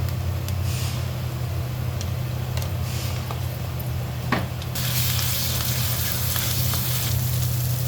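Fish frying in a pan with ginger and garlic for a Musa fish curry, a constant hissing sizzle that swells louder midway, with a few faint clinks and no talking.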